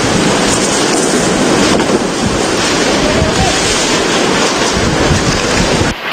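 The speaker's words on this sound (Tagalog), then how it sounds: "Ramdam ang malakas na hangin at ulan sa Kawayan." Strong wind roars steadily into the microphone during a windstorm in Isabela, Philippines, a dense, continuous rushing blast with no pauses, close and loud throughout.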